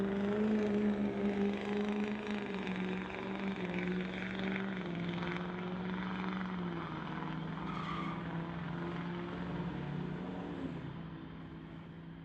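Two GMC pickup trucks drag race on a street-legal strip, a 2012 long box against a short box. Their engines give a loud, sustained roar that holds a steady pitch, then slowly fades toward the end.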